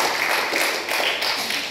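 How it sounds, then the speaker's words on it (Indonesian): Church congregation clapping for God during an Indonesian sermon, a steady wash of many hands applauding together, fairly loud and continuous for under two seconds with no speech over it. "Katakan amin, tepuk tangan buat Tuhan."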